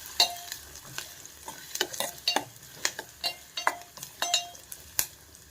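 Onions and green chillies fry in a pan while a spoon stirs them, giving a steady low sizzle broken by sharp, regular clinks and scrapes against the metal.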